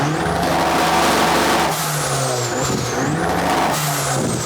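A stock Honda D16 engine on 18psi of turbo boost revs hard and loud, with rising whines sweeping up and dropping back as it climbs through the revs, a steady near roar throughout with no talk.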